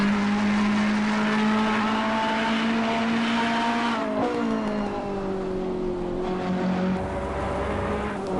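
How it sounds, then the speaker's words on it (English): A Ferrari GT3 race car with a V8 engine runs on the wet Suzuka track, a loud, steady engine tone that shifts down and back up through gear changes, heard close and alone. "an absolutely beautiful sound is the Ferrari GT3"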